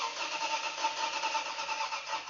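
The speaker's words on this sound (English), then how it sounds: "The engine won't start." A car engine cranks over and over but fails to catch, the starter churning in a fast, continuous rhythm up close with no talk.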